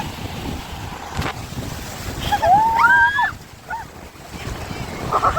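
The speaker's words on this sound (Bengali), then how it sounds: "এই যে সুন্দর ঢেউ আসছে" Sea waves breaking on the beach at Digha, a broad wash of surf and wind buffeting the microphone, with voices and a brief high-pitched call partway through.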